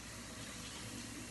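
Tap water runs steadily over raw meat being rinsed in a sink for a Haitian-style marinade, a continuous broadband splashing that stays even and close throughout.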